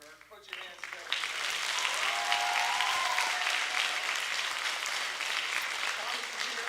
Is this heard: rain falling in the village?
no